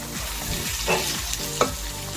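Onion and drumstick pieces being stirred up and down in a pan, with a soft continuous sizzle under scraping strokes and a few sharper spoon knocks against the metal, close up with no voices.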